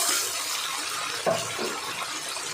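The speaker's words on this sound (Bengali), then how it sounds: "এই দেখুন এই ছোটো বাটির 1 বাটি জল দিয়ে দেবো" Water poured from a small bowl into curry cooking in a pan, a soft gushing splash at the start, a brief sharper splash midway, then a quiet steady trickle.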